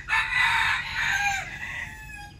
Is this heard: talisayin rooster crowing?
yes